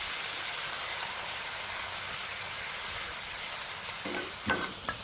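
Steady close sizzle of pork neck stir-frying with dried chili and a splash of water in a pan, with a couple of spatula scrapes and clacks near the end.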